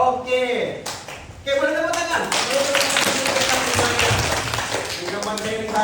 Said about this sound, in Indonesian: Oke, boleh tepuk tangan.